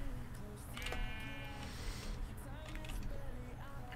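Sheep in the Minecraft video game bleating several times in short wavering calls, quiet overall with faint background noise.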